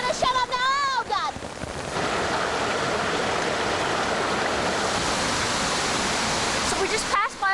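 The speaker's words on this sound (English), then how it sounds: "So this is the waterfall, you see." Waterfall in a gorge in China roaring steadily as a loud, broad rushing wash, close and continuous; brief bird or voice chirps sound at the start and end.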